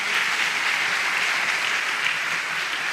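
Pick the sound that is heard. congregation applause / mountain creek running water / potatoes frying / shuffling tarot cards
congregation applause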